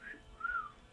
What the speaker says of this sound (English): But if I whistle, you come.